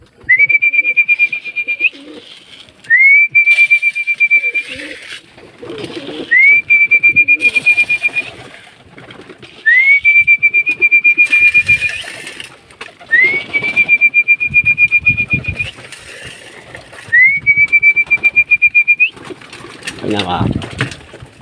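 Pigeons kept for racing are fed, giving repeated bright whistle-like calls in regular bursts about every two to three seconds, close and fairly loud, with rustling and other noises between them.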